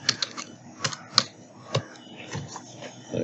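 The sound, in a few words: computer keyboard typing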